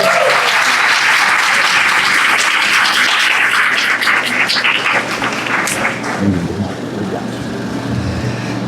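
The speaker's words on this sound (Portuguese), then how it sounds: "Por favor, uma salva de palmas, Xande." Loud, dense applause from an audience at a game jam awards ceremony in Rio de Janeiro, greeting Xande Teixeira, swelling early and then tapering toward the end.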